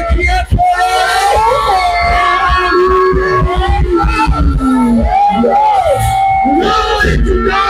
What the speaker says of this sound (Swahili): Jioni ya leo nataka tusikie kelele za shangwe.